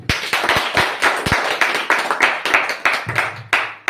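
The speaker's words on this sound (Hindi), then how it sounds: "जोरदार ताली बजाओ" Congregation clapping hands together during a church service, a dense, steady and fairly loud rhythmic applause with no talk over it.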